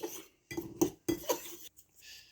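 A spoon clinks and scrapes against a bowl while mixing wheat flour with added spices, three or four close knocks and scrapes in a short stirring burst, ending with a softer sweep.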